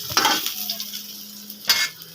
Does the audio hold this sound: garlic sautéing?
yes